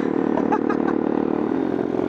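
A motorcycle ridden off-road on rough terrain, its engine a steady mid-pitched drone with some clatter and scraping, fairly loud and close throughout, with no voices.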